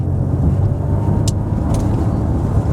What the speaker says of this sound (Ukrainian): І ще таке відчуття, що трохи є якийсь двигун, да? але це динамік нам дає, да?